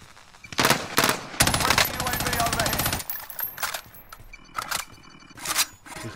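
Gunfire in the shooter game Warzone: a sustained automatic burst, loud and close, followed by scattered single shots and short bursts, with some talk mixed in.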